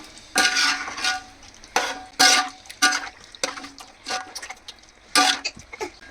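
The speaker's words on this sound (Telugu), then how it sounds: "ఇది మొత్తం ఒకసారి మిక్స్ అయ్యే విధంగా కలుపుకోవాలి." Chicken pulao with green chillies being stirred in a pot, a ladle scraping and clinking in several separate bursts of metallic scraping with quiet gaps between, close and fairly loud with no talking.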